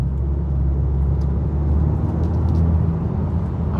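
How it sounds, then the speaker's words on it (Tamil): Mercedes-Benz E200 petrol car with a full AMG kit accelerating and taking off, a continuous loud low engine and road drone from inside the cabin, no voices. "அப்படியே வந்து அப்படியே டேக் ஆஃப் ஆகுது வண்டி."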